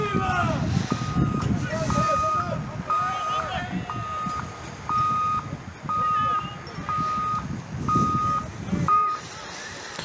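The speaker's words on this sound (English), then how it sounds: "Could have sworn that car's alarm was going off for quite a while to start this game." A car alarm repeats a regular two-tone electronic whoop, cycling steadily over loud crowd noise and rumble.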